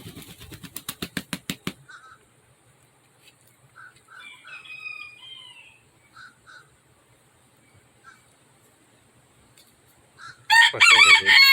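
Chickens and roosters in a backyard among citrus trees: a rapid burst of loud pulsing calls opens the clip, scattered short clucks and squawks follow at moderate distance, and a loud crowing call closes it.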